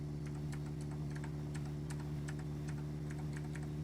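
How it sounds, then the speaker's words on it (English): Computer keyboard typing picked up by a microphone, a quick irregular run of crisp clicking keystrokes over a constant low electrical hum, with no voices. "You can probably hear the keyboard."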